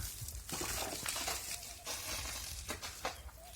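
Water is thrown and splashed against a new house window in several quick, rough bursts, with a wet, hissing spray.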